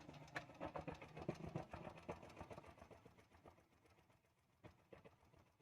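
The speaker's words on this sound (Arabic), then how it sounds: "ركز مع الصوت بتاعها، تلاقي التكه اللي انت بتسمعها دي" The engine of a Bajaj tuk-tuk idles, three days after an engine overhaul, with a quick, steady ticking from the valves. The ticking is loud and close at first, then fades a little, with no talk.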